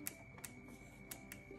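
A few sharp, quiet mechanical clicks spaced irregularly over a low steady hum from an LG washer dryer's faulty rotary selector switch being turned.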